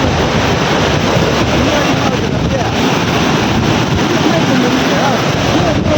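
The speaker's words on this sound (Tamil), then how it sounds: "ஆர்ப்பரிக்கும் விதமாக வந்து தண்ணி போயிட்டுருக்கு." The flooded Thenpennai river near Pattambakkam in Cuddalore rushes past in a loud, continuous roar of turbulent water, buffeted by heavy wind noise on the microphone, with no pause throughout.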